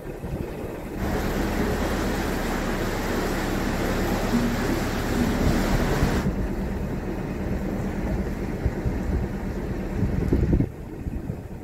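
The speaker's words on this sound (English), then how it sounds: "And this wind's really getting up." Strong wind roars steadily and loudly against the microphone while a canal boat cruises toward Nuneaton, a continuous broadband rush that barely lets up.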